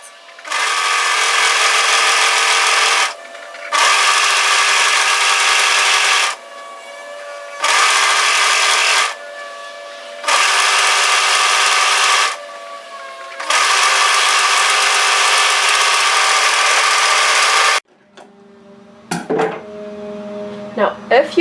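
An overlocker serges along the lower hem of a knit teddy jacket in several long, steady, loud runs broken by short pauses, ending with softer handling clatter.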